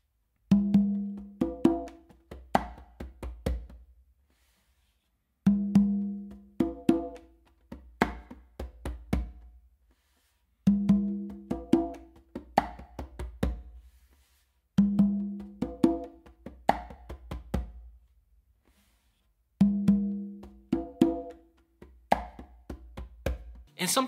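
A full conga pattern played by hand repeats five times, each cycle mixing tones, slaps and deeper strokes in a quick rhythmic cluster with brief pauses between repetitions, close and clear, with no one talking.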